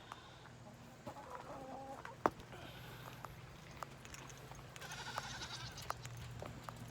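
Chickens and roosters in a farmyard cluck and call faintly at a distance over a low steady background hum. One sharp knock sounds partway through.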